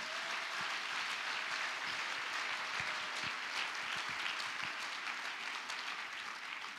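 A church congregation applauds loudly and steadily for several seconds, a dense sustained wash of clapping that eases slightly toward the end.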